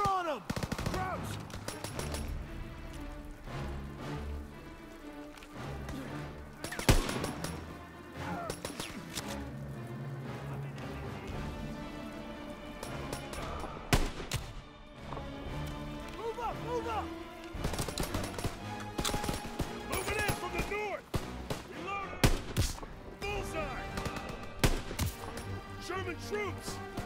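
Rifle and machine-gun fire from snipers and troops in Call of Duty WWII, a dense, continuous battle of repeated sharp shots and bursts mixed with shouted voices and game sounds.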